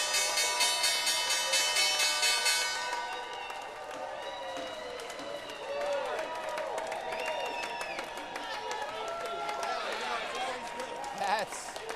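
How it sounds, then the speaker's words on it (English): A big, enthusiastic crowd applauds and cheers at the stock exchange closing bell as the Pinnacle West team does the honors. Dense, loud clapping fills the first few seconds, then settles into steady cheering and whoops. "I love when there's a big enthusiastic crowd."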